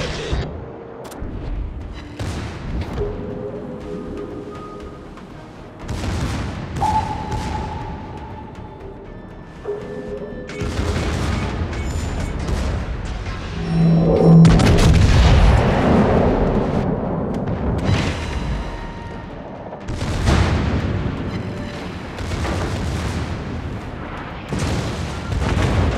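Naval guns firing and shells exploding in World of Warships, a series of heavy booms and blasts spread unevenly across the stretch, some near and loud, others duller, over a constant rumbling battle background.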